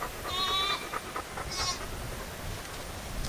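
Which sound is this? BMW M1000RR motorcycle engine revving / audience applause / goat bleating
goat bleating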